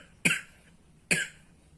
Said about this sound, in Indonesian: Batuk kawan-kawan.